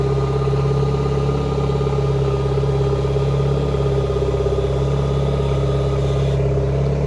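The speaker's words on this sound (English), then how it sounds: "so next I'll turn the engine on, and I'll trim the motor down" A boat's outboard engine runs at a steady, loud idle with a constant droning hum, and a faint shift in tone comes near the end.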